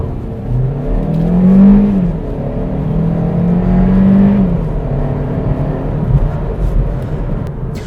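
A 2021 Kia Proceed GT-Line in sports mode pulls away hard from traffic lights, its engine note rising in two strong surges of rising revs, loud and close throughout with steady road and wind roar beneath.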